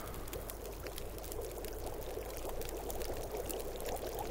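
Water heating over a campfire in The Long Dark survival game, a steady pouring, bubbling liquid wash with a faint crackle, continuous and moderately close with no talk.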